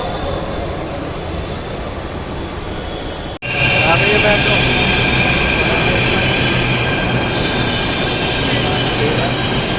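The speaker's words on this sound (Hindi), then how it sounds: "हम मेट्रो स्टेशन पे पहुंच गए हैं" A metro train at a Hindi-speaking city metro station, a loud continuous rumble with sustained high wheel squeal, close by, with faint talk underneath.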